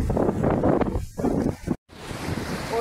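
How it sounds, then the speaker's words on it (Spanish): The Turquesa river in San Juan, Argentina rushes along as a steady broadband roar of flowing water, mixed with gusty wind buffeting the microphone and one brief dropout. "Y acá el benemérito río Turquesa."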